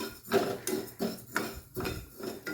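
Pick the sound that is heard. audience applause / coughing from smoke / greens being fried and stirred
greens being fried and stirred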